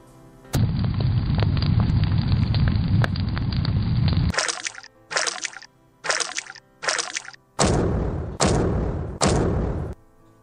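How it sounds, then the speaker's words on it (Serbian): Sound effects played in a radio quiz: a long roaring burst of fire or rushing water, then a series of sharp, loud cracking bursts separated by brief silences, close and without talk. "Dakle, vatra, voda, pucanje."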